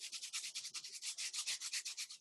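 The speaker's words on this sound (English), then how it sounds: "take a sanding disc, either a flat piece of paper, and you can wipe it across that" A sanding disc rubs back and forth across a lumpy mixed media ball for a snowman craft on canvas, giving a steady, close, rhythmic scratchy swish of about a dozen quick strokes with no talk.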